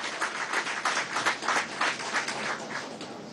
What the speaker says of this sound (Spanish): un gran aplauso a la 41 Brigada Blindada y a todas las brigadas